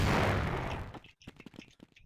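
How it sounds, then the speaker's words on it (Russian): A loud, booming HE grenade blast on the Mirage map of a video game opens and rolls off into a rumbling tail, followed by scattered short pops and clicks. "Две хаешки откинули."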